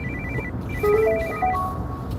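A phone ringtone plays a short electronic melody of rising and falling tones, clear and alone, over a low background hum.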